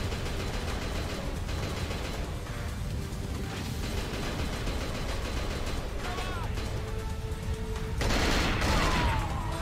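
Continuous video game gunfire in Cold Fear, a dense rattling fusillade over a rumbling background with mechanical clanks, loudest near the end.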